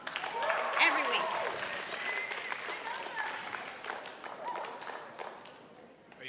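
Congregation clapping for a praise and worship team at a youth church service, a steady wash of applause that rises early and fades toward the end.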